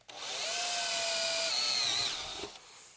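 A power drill whines steadily as it bores through a metal audio pre-amp chassis backed by wood, its pitch sliding upward near the end before it winds down and stops. Close and loud, with no talking.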